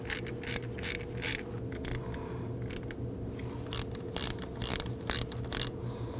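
A ratchet snugs down charge tube hardware on a 2001-2009 Volvo S60 2.5L five-cylinder, with bursts of rapid clicking in irregular runs close up, over a low steady hum.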